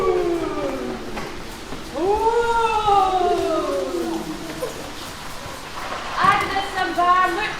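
A voice imitates howling wind with long rising and falling wavering moans, several in a row, the last more strained and breathy.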